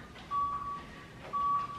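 A workout interval timer gives two clear electronic beeps about a second apart, each steady and sustained, over a quiet room.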